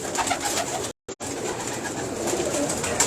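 A breeding pigeon held in the hand gives soft, low cooing against a steady background hum, with one brief dropout partway through.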